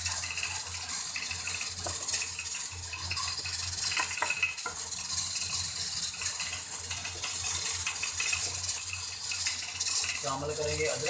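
Beef paya masala sizzles and fries steadily in a pot with ginger and garlic paste while a spoon stirs it, a continuous loud hiss with scraping clinks and a voice talking over it.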